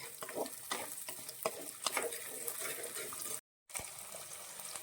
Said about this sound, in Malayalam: പച്ചമുളകും കൂടി ചേർത്ത് ഇത് നന്നായിട്ടൊന്ന് വഴറ്റി യോജിപ്പിക്കാം